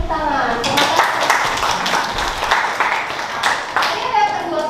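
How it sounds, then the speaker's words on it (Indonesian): Classroom applause from students clapping hands together, a steady patter of many claps lasting several seconds with some children's voices mixed in. "Oke, tepuk tangan."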